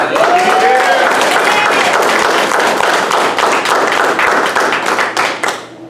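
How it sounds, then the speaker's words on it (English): Sustained applause from a large crowd at a graduation ceremony, dense clapping that holds steady for several seconds before starting to thin out. "Let's give a round of applause to our newest Dirt Boyz."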